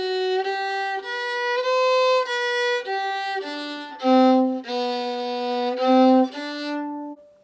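Solo fiddle plays the A part of a traditional tune: a steady run of bowed notes, some held long across the beat, then lower sustained tones, close and clear with no talking.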